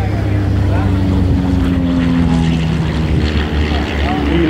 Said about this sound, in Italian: mentre Daniele Beltrame con il suo bellissimo Midget Mustang è in cortissimo finale